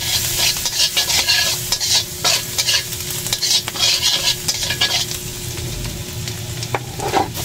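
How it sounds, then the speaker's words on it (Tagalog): Garlic sautéing in butter in a pan for low-carb shirataki bagoong fried rice, with a steady close sizzle and repeated scraping stirs running throughout; no one talks. "So magigisa muna tayo ng bawang"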